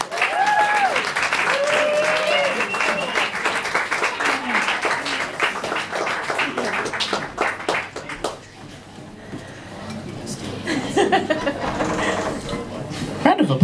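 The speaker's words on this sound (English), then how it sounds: "Round of applause for Callum." An audience at a literary reading event gives a sustained round of clapping for a reader, with voices and light chuckles mixed in; the applause thins out after about eight seconds and then picks up faintly again.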